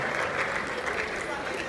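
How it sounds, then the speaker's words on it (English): Dense audience applause on the final day of the 3rd Ghana Digital event, a brief, steady wash of many hands clapping with a murmuring crowd beneath. "A round of applause,"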